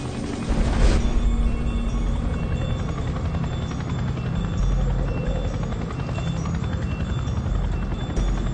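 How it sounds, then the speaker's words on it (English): Large military helicopter approaching over a mountain summit, its rotor blades producing a steady, loud throbbing chop with a sharp swell near the start, holding continuously throughout. "Al-Qaeda fighters hear the rotor blades of a large helicopter approaching."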